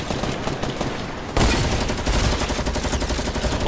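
Gunfire rattles in Fortnite, a dense continuous barrage of rapid shots that jumps suddenly louder partway through and stays intense to the end.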